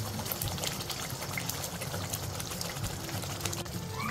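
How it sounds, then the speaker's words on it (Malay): Thick sweet soy sauce is poured steadily into a pan, a soft continuous trickle over a low background hum, with no talking. "Masukkan kicap pekat lagi."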